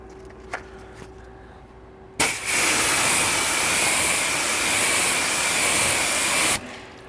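Water spraying over a car during a detailing test of wet-coat products: after a quiet stretch with a faint hum and a click, a loud, steady rushing hiss starts abruptly and runs for about four seconds before cutting off.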